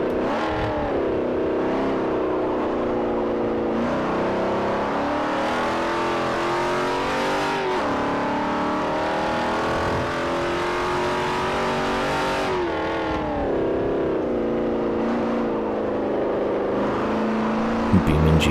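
Racing car engines in Forza Motorsport 4, a loud sustained engine roar that climbs through the revs and drops sharply at each gear change, repeating steadily over the lap.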